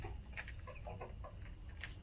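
Chickens cluck faintly in a backyard, making short, scattered clucks over a low background rumble.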